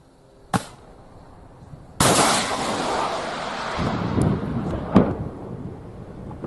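Missile strikes and explosions from Hezbollah attacks in Israel: a sharp blast, then a long loud rumbling roar with further cracking bangs mixed in, all fairly close and with no voices.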